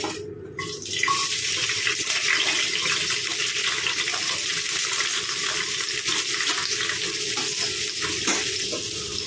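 Shallots and green chilies drop into hot coconut oil and fry with a loud, steady sizzle that starts abruptly after a brief clatter and holds evenly, close up and alone, with no voices.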